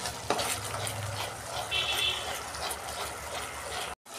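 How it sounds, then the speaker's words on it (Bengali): Peanuts fry in a wok while a spoon stirs and scrapes through them, soft sizzling under irregular scraping strokes, ending with a brief dropout. "নাড়তে হবে বন্ধুরা, না হলে বাদাম আছে তো নিচে লেগে যাবে কড়াই"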